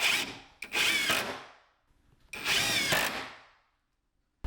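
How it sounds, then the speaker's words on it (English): A power drill driving screws into a plywood workshop shelf, two whirring bursts of about a second each, close and loud, separated by a short pause. "So we'll go ahead and lock this down with some screws"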